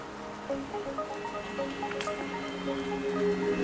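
Rain falling in the Wuthering Waves video game, a steady soft patter of drops with light splashes on surfaces, continuous and moderately close, no talking.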